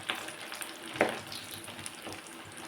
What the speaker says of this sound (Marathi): मीडियम हीटवरती आपल्याला आलटी पलटी करत ह्या सर्व ओड्या अशाच तळून घ्यायच्या आहेत